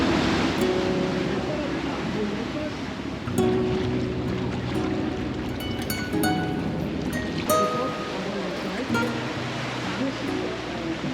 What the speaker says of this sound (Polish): Pływamy teraz do latarni morskiej, więc opływając wyspę Capri.